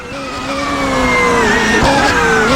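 BMW M3 GTR race car engine at high revs on the Nordschleife in Assetto Corsa, a steady rising and falling howl held close and loud, climbing in pitch through the gears with a brief shift dip and no talk.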